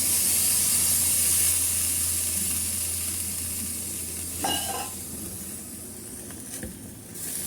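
A pot of fish curry simmers right after the first milk is poured in, giving a steady close hiss and sizzle that eases slightly over time, with a couple of brief clinks near the end and no voices.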